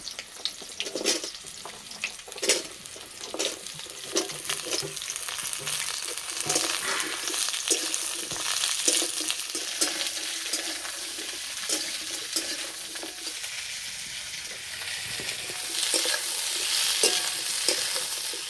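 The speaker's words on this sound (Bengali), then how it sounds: "সবজি ভালো করে ভেজে নিয়েছি।" Bitter gourd and mixed vegetables fry in a pan for shukto, giving a loud, continuous sizzle with scraping stirs that swell toward the end; no one speaks.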